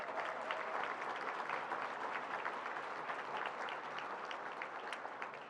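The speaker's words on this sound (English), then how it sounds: "Let's give them one more round of applause." Faint but steady audience applause at a civic forum, a dense patter of many hands clapping evenly for several seconds with no voices over it.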